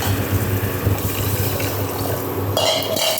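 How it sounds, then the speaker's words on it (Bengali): Water is poured into a pan of fried mung dal, a steady close splashing rush that continues throughout and shifts to a brighter hiss near the end. "জল দিয়ে দেবো।"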